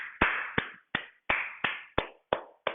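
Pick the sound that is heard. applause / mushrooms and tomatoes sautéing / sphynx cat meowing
applause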